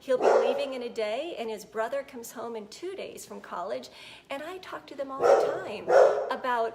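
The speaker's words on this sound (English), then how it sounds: "sorry about my dog" A pet dog barks and yelps in short bursts indoors, loudest near the end, mixed in among steady talking from a nearby speaker.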